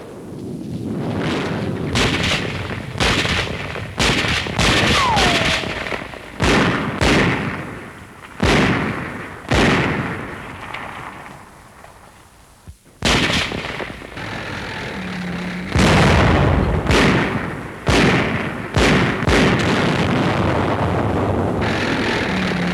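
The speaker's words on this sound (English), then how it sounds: "Shelling the École Militaire," Artillery shelling of the École Militaire in Paris, 1944, as a series of sharp, irregular booms and blasts over a rumbling wartime background, some near and loud, others more distant.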